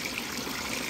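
Water gushes steadily from a farm tubewell as a continuous, loud rushing flow with no pauses and no voices.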